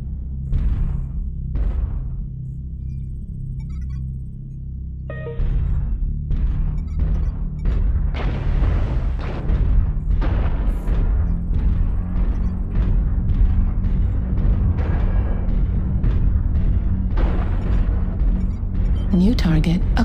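Airstrike explosions in MechWarrior Online during a Marauder mech battle: a string of heavy booms and blasts repeating over a constant low rumble, with the barrage growing denser and louder after the first few seconds.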